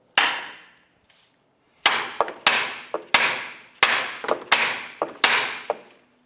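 Metal hammer blows on a pry bar wedged in a 2011-2019 Ford Fiesta front steering knuckle to pop the ball joint, about a dozen sharp ringing strikes, a lone hit then steady spaced tapping, close and loud.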